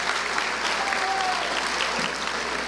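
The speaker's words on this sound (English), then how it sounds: "So we got to give him a round of applause" Applause for a school superintendent at a Let's Move rally in Jackson, Mississippi: a steady, dense round of clapping from a crowd, holding at an even level throughout.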